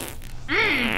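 A single comedic fart lasting about half a second, loud and close, with a wavering pitch that slides down as it ends.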